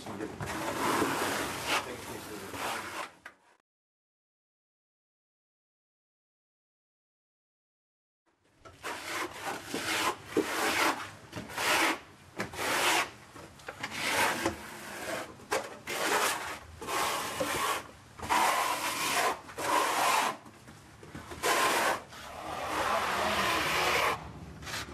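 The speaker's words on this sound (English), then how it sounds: "Keeping the foam float clean is important." Foam float rubbing over textured wall plaster, repeated scraping and swishing strokes close up, broken by a few seconds of silence, with talking heard over parts of it.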